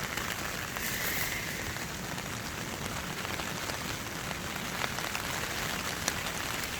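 Heavy rain drums steadily on a camping tent, a dense, even hiss of drops pattering across the fabric with no letup, close and enveloping throughout.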